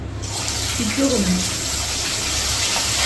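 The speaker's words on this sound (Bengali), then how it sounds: "চিকেনটাকে এই তেলের মধ্যে নর্মালি কিন্তু আমি ভাজব" Chicken frying in hot oil gives a steady, loud sizzling hiss that begins abruptly and continues throughout, with a voice briefly speaking over it.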